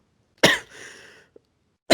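A woman coughs once, sharply and close, with a breathy trailing exhale, then a tiny click and a second cough cut off at the end.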